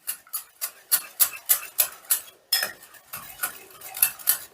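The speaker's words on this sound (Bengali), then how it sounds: "এবারে সমস্তটা বেশ ভালো করে মিশিয়ে নেব" A spoon scrapes and clinks steadily around a bowl, mixing yogurt with spices and sugar for chicken makhani; the strokes come in a quick, regular rhythm, close and fairly loud, with no talking.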